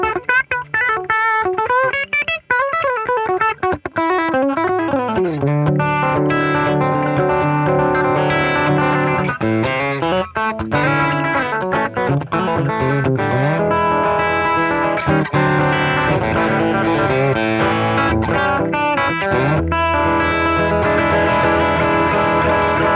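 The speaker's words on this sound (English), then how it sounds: "this should give us more of a kind of a driven, more modern, really more like a humbucking sound" A Fender Acoustasonic Telecaster plays a driven, modern humbucker-style modeled tone, loud and distorted with a chorus-like shimmer, moving through sustained chords and quick melodic runs without any talking.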